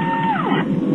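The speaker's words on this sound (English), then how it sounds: "This is the sound of a Cadillac DTS being scanned at over 100 points by a state-of-the-art laser system." Sweeping electronic tones glide downward over a steady synthetic bed, a laser system scanning a Cadillac DTS sedan at over 100 points, loud and close with no talking.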